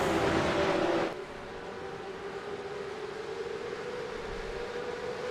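Porsche Supercup race cars in a sim race at the Hungary circuit give a steady high engine whine, loud at first and then dropping to a quieter, continuous drone after about a second.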